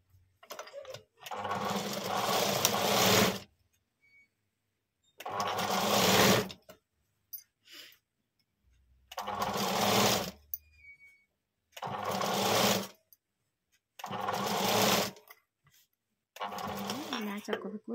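A sewing machine stitches a square blouse neckline at a single margin, running in five or six bursts of a few seconds each with short pauses between, fairly close and steady.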